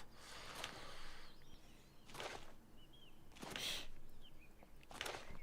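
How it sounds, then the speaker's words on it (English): Faint bird calls, reportedly a pigeon, in the video game Oblivion Remastered: a few short, scattered chirping bursts over quiet outdoor ambience, with no talking. "Hello, awesome pigeon."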